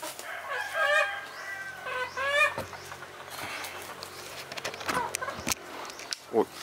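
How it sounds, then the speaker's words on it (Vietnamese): A rooster crows and clucks fairly close by outdoors, its calls rising over steady background noise and scattered knocks. "Con gà trống đang tới."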